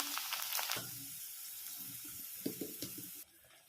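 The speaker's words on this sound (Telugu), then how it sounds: "ఆయిల్ వేడయ్యింది కదా, ఇందులో అయితే ఈ పూరీలు వేస్తున్నాను" Puris slide into hot oil and sizzle, with bright frying crackle and bubbling near the start. Sharp splashes follow a little later, then it drops to a quieter hiss at the end.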